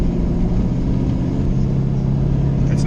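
Drag car engine running steadily during tuning, a continuous low rumbling drone that holds an even level throughout with no clear revving.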